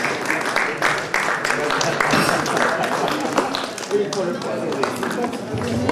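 An audience at a festival dinner applauds an honorary diploma recipient, with dense, sustained clapping running throughout while someone talks over it.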